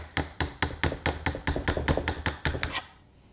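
A flat chisel works under old barn wood boards in a quick, even run of about a dozen sharp, loud knocks, each ringing briefly, before stopping into near silence.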